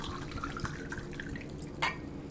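Rosé wine pours into a champagne flute, giving a soft, faint trickle with light drip-like splashes. A sharper splash comes near the end over a quiet background.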